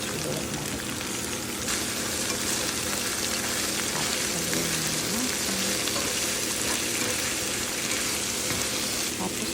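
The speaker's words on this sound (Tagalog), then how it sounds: "Tapos nilagay ko yung tofu. Haluin lang natin para siya makumbine." Tofu frying and being stirred in a pan, a continuous sizzle with scraping stir sounds and a few utensil clinks, no speech heard.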